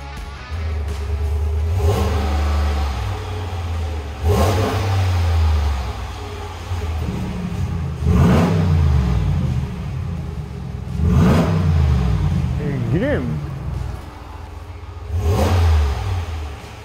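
A brand-new RAM 1500 pickup with remote-controlled exhaust valves is revved in repeated bursts about every three to four seconds. Each deep, rumbling blip rises and falls over a steady idle, with no talk.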